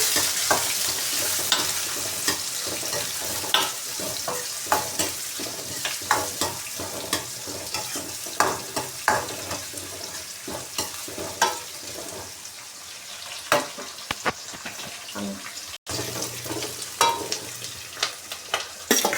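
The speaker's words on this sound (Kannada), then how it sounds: "ಜೀರಿಗೆ ಮತ್ತು ಸೋಂಪು ಫ್ರೈ ಆಗಿದೆ ಈರುಳ್ಳಿ ಹಾಕೋತಾ ಇದ್ದೀನಿ" Onion frying in oil with cumin and fennel seeds, a close continuous sizzle broken by frequent quick stirring scrapes, busy at first and a little sparser later.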